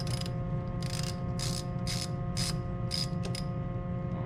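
A 10 mm ratchet loosening a plastic bolt on a 2009 Mercedes-Benz E350 during an air filter replacement, with about eight short, close, evenly spaced clicking bursts over a steady hum.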